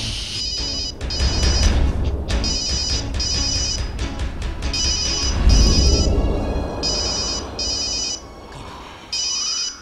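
A telephone rings loudly and close, repeating its electronic trill in regular bursts with brief gaps between them, heard over steady room noise in a Manipuri stage play.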